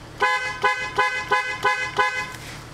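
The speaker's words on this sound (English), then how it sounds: "now we're going to honk the horn about 100 times around the neighborhood" A car horn honks in a steady series of five short blasts during a neighborhood tsunami evacuation, evenly spaced and loud, with a low engine rumble underneath.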